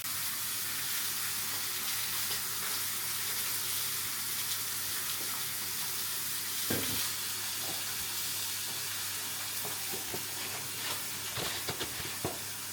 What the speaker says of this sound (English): while my tomatoes cook in the juices of the steak and the eggs are bubbling away there